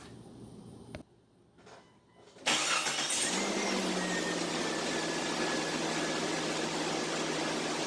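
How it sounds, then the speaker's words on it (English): A Jeep Cherokee with newly replaced battery terminals cranks briefly with a few uneven whirs, then fires up into a loud, steady idle that carries on to the end. "It has cranked over a whole lot faster than it has in a long time."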